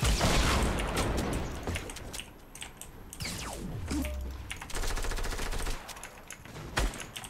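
Gunfire in the video game Fortnite Battle Royale, with rapid bursts and single shots, plus close keyboard clatter underneath throughout.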